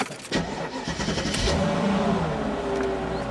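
A Mercedes-AMG S55 engine cranks and catches, then settles into a loud, close, steady idle with a slight rev just after starting.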